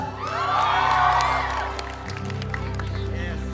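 Audience applause and cheering with scattered whoops at a live concert at Alabang Town Center, a broad crowd roar that swells and then settles into steady, lighter clapping.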